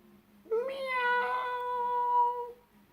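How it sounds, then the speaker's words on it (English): A single drawn-out meow from a large tabby cat, clear and close, rising then holding steady for about two seconds before fading. ""Meow!" Suddenly came a voice, and a large tabby cat with green eyes came out"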